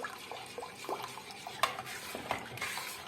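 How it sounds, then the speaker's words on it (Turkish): A spoon or whisk stirs a milk pudding mixture in a pot with soft, close scraping and clinking strokes, fairly quiet and irregular, with no talk. "İyice karıştırıyoruz şu şekilde."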